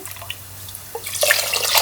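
Rice-washing water poured into a cooker holding black kavuni rice, a short close splash of liquid that swells into a steady bright pour after a few light drips.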